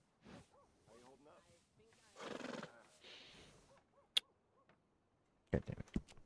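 A horse whinnies in Red Dead Redemption 2 with a short, sharp neigh and a later burst of snorting, heard after a stretch where game characters talk.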